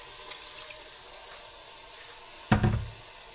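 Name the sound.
water poured into a pan of liver roast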